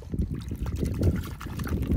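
A mudlarking find being rinsed in Thames river water on the London foreshore: close, continuous splashing and trickling with irregular sloshes, with no talking.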